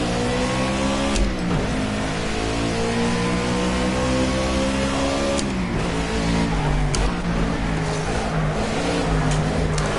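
Race car engine in the Project CARS racing game, droning steadily with harmonic whine rising and dropping through gear shifts and braking on a bumpy track, loud and continuous throughout.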